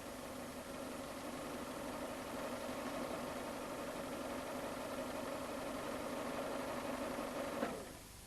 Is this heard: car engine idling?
yes